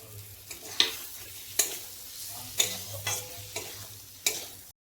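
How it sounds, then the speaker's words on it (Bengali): Potatoes are stirred into frying tomato paste for a Bengali fish egg curry. Soft sizzling runs underneath about six distinct scraping stir strokes, spaced roughly evenly and heard close by. "এখন আমি আলুগুলো দিয়ে দেব।"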